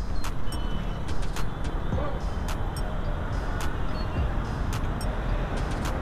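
Street traffic waits at a signal in Mumbai: a dense, continuous roar of idling cars, buses and trucks close by, peppered with repeated sharp horn honks throughout.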